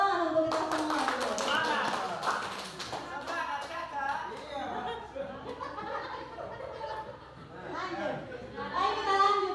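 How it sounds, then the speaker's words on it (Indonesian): Teachers in a training session clap for themselves, a dense patter of hand claps mixed with chatter and some laughter, with voices talking over it throughout. "Tepuk tangan untuk kita semua dulu."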